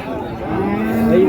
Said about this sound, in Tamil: ஸோ ஒரு நாட்டு மாடுங்க, சென மாடு.